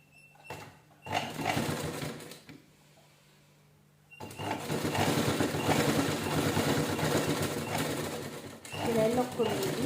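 A sewing machine stitches old t-shirt fabric for a homemade doormat, running in close, moderately loud bursts with a long pause in the middle before a steady extended run.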